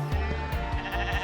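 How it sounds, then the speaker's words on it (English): A flock of sheep bleats on a Scottish hillside during a Munro hike: loud, nearby bleats repeat and overlap in quick succession over a constant rushing background. "I'm absolutely terrified right now because there's loads of sheep"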